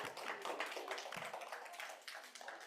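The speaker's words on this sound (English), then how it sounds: "could we just give Kevin and Christy and Persis another round of applause?" Applause for presenters at a kids club meeting, a faint, distant patter of clapping from a small audience that thins out toward the end.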